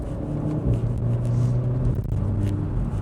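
Renault Megane RS 300 heard from inside the cabin while driving, a steady low engine and road rumble with slight swells in revs, continuous and fairly loud.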